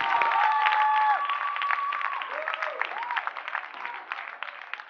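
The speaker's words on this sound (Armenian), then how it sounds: "Շարունակում են ծափարությունը Լոլա եւ Հովոկ։" Sustained audience applause with some cheering for dancers at a dance competition gala concert, loud and dense at first, then thinning and fading, with bright tonal stage sounds over the top.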